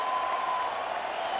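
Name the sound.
baseball stadium crowd cheering and clapping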